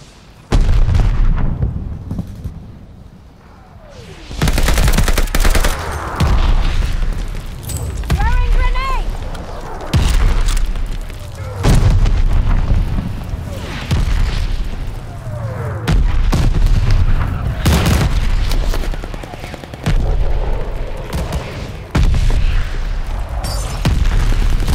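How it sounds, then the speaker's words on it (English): Repeated heavy explosions from a friendly bombing run boom across a Call of Duty: Vanguard Team Deathmatch battlefield, loud and rumbling in waves with gunfire and voices in between. "Friendly bombing run on the way."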